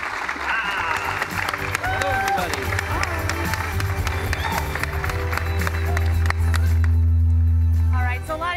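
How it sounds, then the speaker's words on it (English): A live audience at the E3 2017 God of War panel applauds as the Santa Monica Studio team walks out. The clapping is loud and steady, with crowd noise, music and a low hum throughout. "Let's give them a round of applause"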